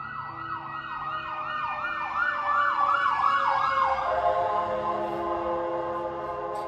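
Ambulance and police sirens wail close by on a street, first in a fast repeating yelp and then in a steady, sustained tone, loud and continuous with no talking.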